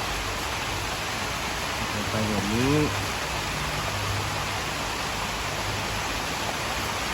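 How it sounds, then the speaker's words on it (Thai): Heavy rain pours down at home in a loud, steady, broadband hiss that fills the whole stretch, while someone speaks briefly over it as a champedak fruit is being cut. "เสียงฝนที่ดัง"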